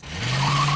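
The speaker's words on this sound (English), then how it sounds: "a sleek black Pontiac Trans Am roars into frame" A black Pontiac Trans Am from Knight Rider roaring in close with tires squealing, a brief loud burst of engine growl and rising skid noise.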